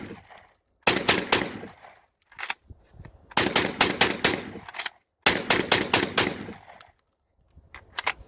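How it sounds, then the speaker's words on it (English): An IWI Tavor TS12 bullpup shotgun blasts 12-gauge rounds in rapid strings of loud, booming shots, several quick bursts separated by short pauses, heard close and outdoors. "That was 15 rounds of 12 gauge in less than 10 seconds."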